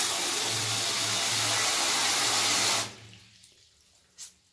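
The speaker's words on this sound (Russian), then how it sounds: "Открываем воду, берем лейку." A hygienic shower head runs with a loud, steady rush of water that stops abruptly, followed by a faint drip and a small clunk.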